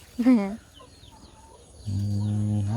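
A chicken clucks briefly and loudly near the start, with a fainter fowl-like call later, at a Thai rural home beside a water area; a steady low hum fills the last second.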